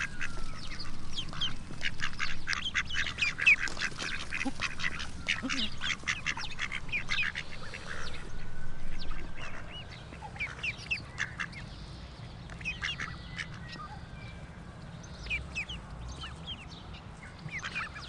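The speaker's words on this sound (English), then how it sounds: "Cute little ducks, eh?" Ducks quack in rapid clustered bursts, busy and close at first, then thinning to scattered quacks over a low outdoor background.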